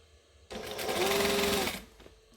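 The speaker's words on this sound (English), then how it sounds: "we're just going to come in and top stitch" A sewing machine top stitches along a folded fabric hem in one quick, steady burst of rapid needle clatter, about a second long, close and alone.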